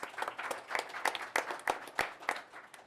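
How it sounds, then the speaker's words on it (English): Scattered audience applause at a boxing press conference for Andy Ruiz Jr vs Anthony Joshua 2, a sparse, uneven patter of individual claps rising and falling over a few seconds, fairly faint and distant. "Let's have a round of applause."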